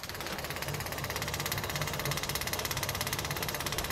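A 6 kW diesel fuel separator running with a steady, dense mechanical hum and fast rhythmic pulsing throughout, close and moderately loud, no voices.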